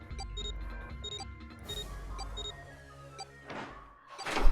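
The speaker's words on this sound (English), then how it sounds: "our bracelets do not need to stop beeping now" In the video game 999, bracelets beep in a repeating electronic pattern, then a heavy door thunks and slides open with a rising mechanical sweep, ending in a loud rush.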